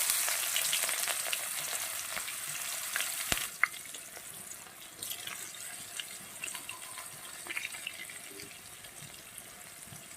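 Onions sizzle in a pan of oil with fried cumin, a bright, close crackling hiss that is loudest at first and then settles into a softer, steady frying sound with occasional pops and scrapes.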